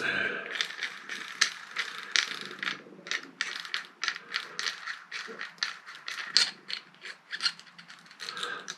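A 3D printed steering hub is pushed and worked onto a Fanatec Podium direct-drive wheel base, producing a series of close, sharp plastic-and-metal clicks and ratcheting taps in an uneven rhythm.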